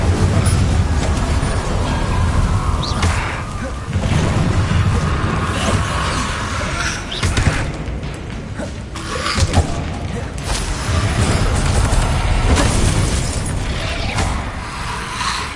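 Spells cast in the Hogwarts Legacy video game, fire spell and blasting curse in turn, give dense rumbling booms and crackling bursts that pile up continuously at high level, with mechanical creaks and brief swells throughout.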